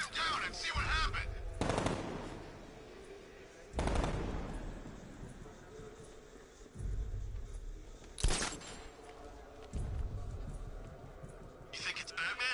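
Gunfire in Batman Arkham Knight, several loud bursts of rapid automatic fire separated by short pauses, with other game sounds around them.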